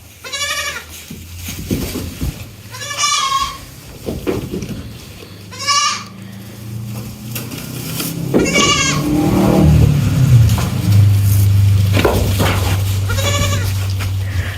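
Goats on a farm bleat repeatedly in loud, close calls, several distinct bleats spaced a few seconds apart over a low steady background hum.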